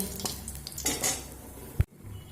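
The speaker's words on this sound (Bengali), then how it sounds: "সর্ষের তেল অ্যাড করেছি তো এবার আমি ফোড়নে দিয়ে দেব গোটা চিড়ে আর দেব দুটো শুকনো লঙ্কা ফোড়নটা একটু ভাজা হতে দেব" Flattened rice and two dried red chillies frying in hot mustard oil for a tempering, mostly heard as close metal clatter and stirring in the pan with a soft sizzle beneath and a sharp knock near the end.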